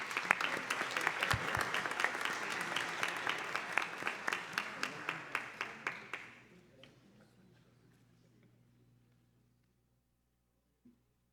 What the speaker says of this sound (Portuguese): Novamente, palmas ao doutor Ismânio.